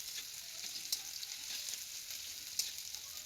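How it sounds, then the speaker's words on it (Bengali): Garlic and onion frying in a little oil for a chicken dish, a steady close sizzle with faint crackles and a couple of sharper pops, with no voices. "পেঁয়াজ রসুন ভাজার জন্য অল্প একটু তেল দিয়ে এগুলো তো ভেজে নিতেই হবে"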